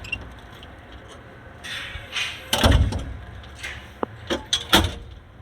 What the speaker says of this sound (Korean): 문을 열고 들어갑니다.